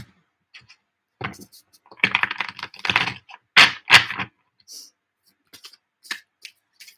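Deck of tarot cards being shuffled by hand, a few dry riffling and tapping bursts of irregular length separated by silence, close and moderately loud.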